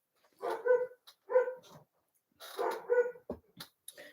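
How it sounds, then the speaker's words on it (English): A dog barks indoors in several bursts of yappy, whining barks at moderate distance, with short pauses between groups. "Ignore my batty dog."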